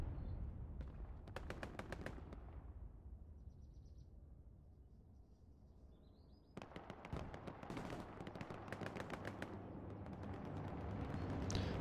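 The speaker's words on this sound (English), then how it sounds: "Artillery goes down onto that mark" Heavy artillery barrage in Hell Let Loose during a 49v49 night battle, rounds of booming impacts and rattling gunfire in dense bursts, pausing briefly before a loud renewed volley of blasts near and far.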